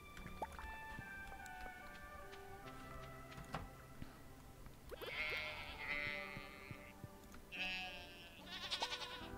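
Sheep in the Stardew Valley farming video game bleat in a few loud, wavering calls over soft game music, with short chiming sound effects earlier in the scene.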